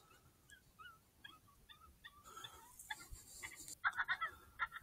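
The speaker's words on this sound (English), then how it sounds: "Turn up this pup distress louder." An electronic predator caller plays a coyote pup distress call, a series of faint high yips and whimpers that grow louder and more frantic toward the end, heard outdoors with no talking.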